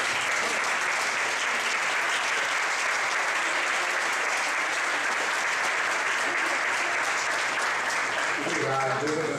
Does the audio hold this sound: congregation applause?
yes